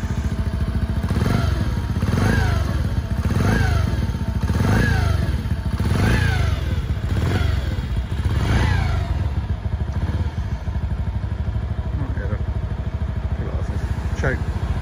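A small 50cc motorcycle engine idles close by with a rapid, rattling putter, rising in several repeated revs before settling back to a steady idle.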